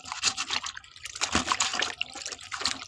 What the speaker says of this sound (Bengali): ভালোভাবে কাঁঠালগুলোকে এখন ধুয়ে নেব